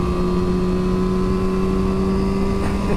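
A Yamaha R7 OW-02 sport motorcycle engine holds a steady, smooth tone under throttle while riding, a loud continuous drone with little change in pitch.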